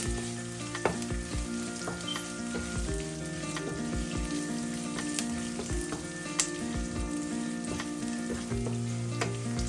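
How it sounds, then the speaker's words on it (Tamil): Chopped garlic sautéing in hot oil for a Sri Lankan egg curry, a loud dense crackling sizzle with frequent pops and spatters and occasional stirring clinks, close and continuous with no voices. "ஒரு நாலஞ்சு பல்ல உள்ளி வெட்டி வச்சிருக்கிறேன் அதையும் போடுறேன் போட்டு நல்லா வதங்க விடுவோம்"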